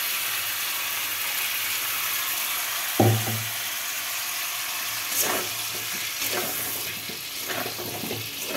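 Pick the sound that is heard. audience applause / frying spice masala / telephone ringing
frying spice masala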